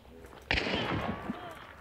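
A single gunshot in the video game Hunt: Showdown, a sharp crack followed by a rumbling tail that fades over about a second, heard with no talk over it.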